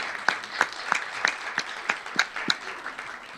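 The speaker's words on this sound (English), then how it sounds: "can we give a round of applause to all of our panelists?" A hearing audience claps for a panel of speakers, a brief thin round of applause with a handful of distinct close claps in a loose rhythm, with faint voices underneath.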